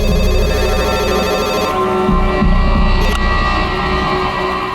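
A phone rings with a steady, repeating electronic tone over a low background hum, continuous and fairly loud throughout.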